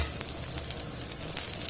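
Cabbage, carrot, capsicum and spring onion hit a hot pan with chopped ginger and garlic for veg noodles, giving a steady, close, bright sizzle with faint stirring scrapes.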